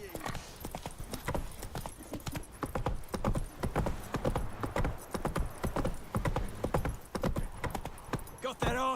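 Geralt's horse Roach trotting in The Witcher 3 game, a steady near clip-clop of hooves running throughout with a brief whinny, under occasional talk.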